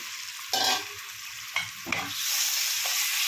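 Raw prawns dropped into hot oil with turmeric burst into a loud sizzle, followed by scraping stirs and further surges. The frying settles into a steady hiss, heard up close with no talking.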